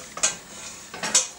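Crepe batter ladled into a hot oiled pan and swirled, giving two brief scraping, sizzling bursts over a low steady frying hiss, close and fairly quiet.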